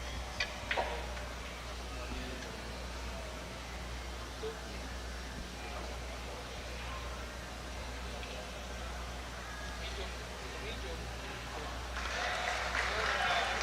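A crowd at a pool championship in the Philippines applauds steadily at a fair distance under a low constant hum, with a brief louder burst of clapping near the end.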